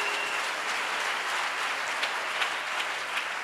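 A church congregation claps together in acclamation of Jesus, giving dense, sustained applause at a fairly loud, constant level from start to finish.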